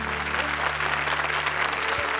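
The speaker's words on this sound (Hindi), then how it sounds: "एक बार फिर जोरदार तालियां आकाशदीप और परवेज के लिए" Audience applause at a live Hindi comedy show, a dense steady clapping from a crowd that fills the whole moment, with a low hum underneath.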